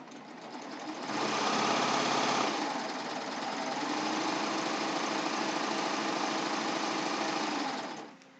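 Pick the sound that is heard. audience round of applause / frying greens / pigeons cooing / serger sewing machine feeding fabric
serger sewing machine feeding fabric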